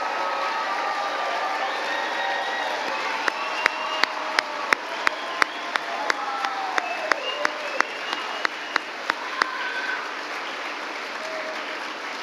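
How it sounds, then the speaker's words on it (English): Sustained applause from a ceremony audience honoring a group of future nursing students, steady dense clapping throughout with a few sharper, louder claps standing out in the middle and some faint cheering underneath. "let's give one last round of applause for this talented group of future nurses"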